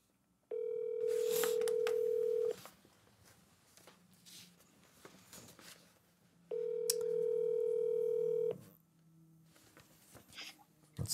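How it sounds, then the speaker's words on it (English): A telephone call to the Pima County Sheriff rings through on the line, two long steady ring tones about six seconds apart, with faint room noise between them. "Let's call again."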